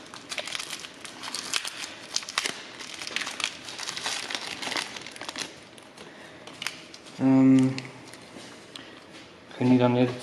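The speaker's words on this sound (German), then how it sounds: "können wir hier die neuen Bremsbeläge auspacken" New brake pads for a rear brake job on a Renault Megane 3 are unpacked from their packaging, giving a steady close crinkling and rustling that runs throughout, with a couple of louder bursts near the end.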